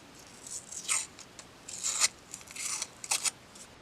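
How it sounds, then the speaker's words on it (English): Paper wrapper torn from a crayon, heard as several short, crisp ripping bursts close up, alone with no talk. "First tearing of the paper."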